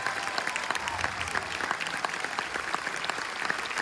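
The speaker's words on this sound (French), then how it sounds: "On peut les applaudir chaleureusement." A crowd at a film premiere in Bercy, Paris, applauds warmly for the directors, a dense, steady wash of many hands clapping throughout, loud and sustained.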